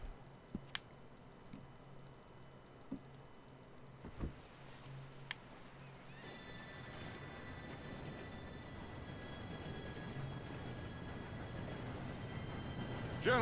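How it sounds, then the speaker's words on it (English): In the video game Red Dead Redemption 2, an approaching train builds gradually from a low rumble into a steady, rising roar of rolling wheels, opening with a few faint ticks and clicks. "Train should be here any minute now."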